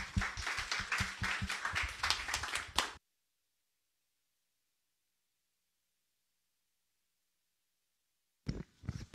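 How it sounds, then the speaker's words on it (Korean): Quick, dense clapping from a youth forum audience fills the first few seconds, stops abruptly into silence, then briefly resumes at the end. "박수 부탁드립니다"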